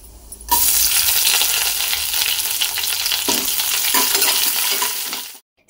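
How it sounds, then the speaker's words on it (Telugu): Spices tempering for semiya upma sizzle and fry loudly in a pan, a dense steady crackle with a few stirring scrapes and clinks, close up and without talk, cutting off abruptly at the end. "సేమియా ఉప్మా కోసం తాలింపు అయితే నేను వేగిచ్చేసుకున్నానండి."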